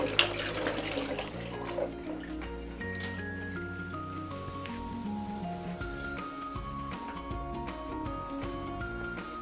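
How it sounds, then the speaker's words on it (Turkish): Water runs from a kitchen tap while hands are washed under it, a steady close splashing stream with shifting tones from the hands and sink, lasting about nine seconds with no speech. "Bir elimi yıkayayım."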